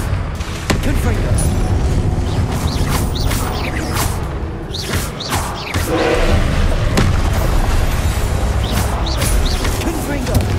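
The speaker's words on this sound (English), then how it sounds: "Confringo!" Repeated Confringo fire spell blasts from Hogwarts Legacy boom and crash through a dense, loud battle mix, with whooshing spell effects and a voice shouting over the explosions.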